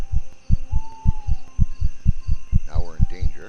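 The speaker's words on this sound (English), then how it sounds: "You can see the heartbeat beating faster." Heartbeat sound effect in a horror video game thumps in a steady, quick double-beat rhythm, low and prominent, while a person talks over it and brief electronic tones sweep near the end.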